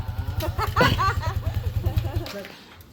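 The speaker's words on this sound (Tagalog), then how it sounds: "Ilakas mo makina." A Yamaha Sniper 155 VVA motorcycle engine idles and revs with a rapid pulsing throb close by, under people talking and laughing, then fades toward the end.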